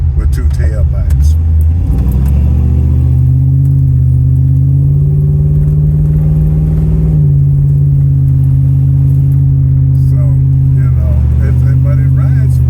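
Deep, rumbling exhaust of a 1999 Dodge Dakota R/T with true dual exhaust idling and revving steadily close by, while someone speaks over the low engine drone.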